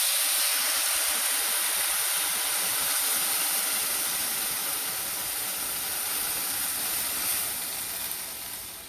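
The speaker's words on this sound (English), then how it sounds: "I'm going to add water. Keep in mind the rice is extremely hot. This is going to steam up like crazy." Loud, continuous hissing and sizzling as water hits very hot rice in a hot pan, a broad steamy roar that gradually eases toward the end.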